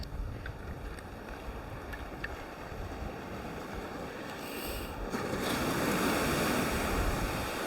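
Ocean waves wash over heaps of shells on a beach, a steady broad surf wash with faint clinking that swells louder partway through, close by and without any talk.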